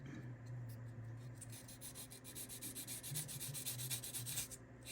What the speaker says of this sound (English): Go ahead and sand it down just a little bit.